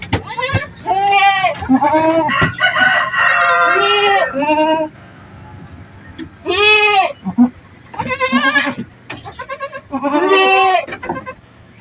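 Mother goat and her young kids bleating repeatedly at close range, loud wavering cries coming in bursts with short pauses between them and overlapping one another.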